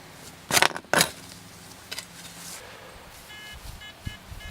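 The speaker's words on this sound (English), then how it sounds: "Alright, so I got two beeps." Two loud scraping thumps, then a metal detector's faint, steady electronic beeps sound repeatedly in the background.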